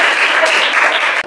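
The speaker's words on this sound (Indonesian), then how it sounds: "Berikan aplaus dong untuk kelompoknya." A school class applauds a group of students, a dense, loud, even burst of many hands clapping close by, continuing steadily for about a second before cutting off.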